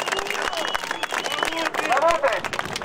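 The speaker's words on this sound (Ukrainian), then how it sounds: "Аплодисменты!" Crowd at an outdoor rally in Slavutych applauding and cheering, with loud overlapping voices and shouts mixed into steady clapping throughout.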